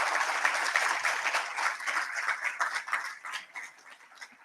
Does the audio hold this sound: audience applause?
yes